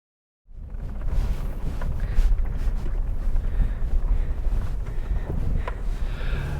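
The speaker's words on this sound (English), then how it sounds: "we're just driving around on this property" Four-wheel-drive vehicle driving around on private property, with a steady loud rumble of engine and wheels and some wind buffeting against the microphone, continuous after a sudden start with no talk.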